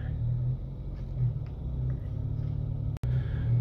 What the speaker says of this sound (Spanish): Hay mucho tráfico, todos están desesperados y pitando